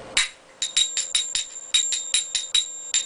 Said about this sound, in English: Or you can go really, really subtle and dull everything.